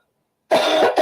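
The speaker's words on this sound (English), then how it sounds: "Excuse me, I keep coughing every now and then." A single short cough from a person during a conversation, near and fairly loud, breaking out of silence and lasting under a second, with a brief second burst at the very end.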